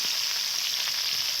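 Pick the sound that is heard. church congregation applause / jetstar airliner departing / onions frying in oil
onions frying in oil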